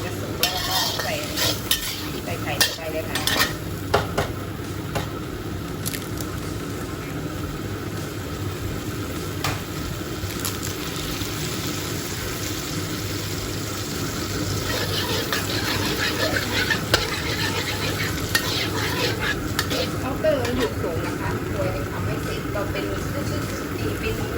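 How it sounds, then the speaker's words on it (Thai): Squid is stir-fried dry in a hot pan in a home kitchen, with steady sizzling, scraping and clinking of a spatula against the pan throughout and someone talking over the cooking. "เดี๋ยวเรา คั่วปลาหมึกให้แห้งก่อนนะคะ"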